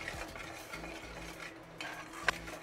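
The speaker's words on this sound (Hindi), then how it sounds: "ये देखिए बहुत स्लो गैस पर हम बेसन को भूनेंगे" Gram flour (besan) roasts on a very low gas flame while being stirred, a quiet, soft scraping and shuffling with faint sizzle and one sharp utensil tap near the end.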